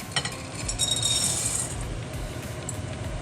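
Chocolate chips poured into a glass bowl set over a pan, a brief rattling clink of small pieces striking glass, fairly close and on its own with no talk.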